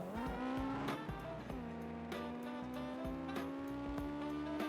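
A race car laps the track at Oulton Park, its engine droning steadily with gear changes and shifting revs, fairly close and loud, with no talk over it.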